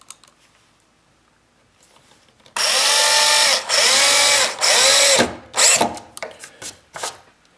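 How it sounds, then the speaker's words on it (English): A power drill bores a small pilot hole for screws into a wooden board, with three loud, close whirring bursts after a quiet pause, followed by short clattering knocks and handling sounds. "drilling a small pilot hole here for my screws"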